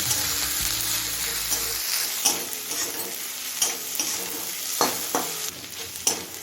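Thinly sliced onion frying in a pan for a paneer (chhana) tadka, a steady close sizzle broken by scraping stirs and clatter, with a low hum fading out after the first couple of seconds; no talking.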